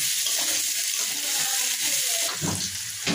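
Chopped onion and green chili sizzle in oil in a pan, a close, fairly loud hiss broken by a few stirring scrapes and a brief louder burst near the end.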